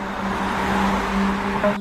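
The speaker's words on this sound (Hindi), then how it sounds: "गाड़ी में बैठते ही प्रदीप ने इंजन स्टार्ट किया। गाड़ी धीरे धीरे आगे बढ़ी" Car engine running steadily and close, a low continuous hum with a faint rise as the vehicle pulls away slowly, cut off abruptly at the end.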